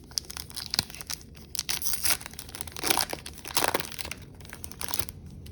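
A Yu-Gi-Oh Dimension Forces booster pack wrapper is torn open up close, with repeated crinkling, ripping and crumpling bursts of foil plastic in an irregular rhythm over several seconds.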